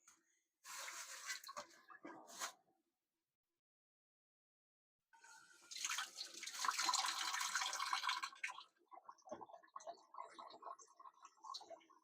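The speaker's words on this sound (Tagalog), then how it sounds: "nilalamas ko lang ito para madurog yung dugo kasi pangit naman buo-buo yung dugo" Wet squelching and sloshing as pork blood clots are mashed by hand in a pot of water for dinuguan, in bursts separated by a pause, close and fairly loud.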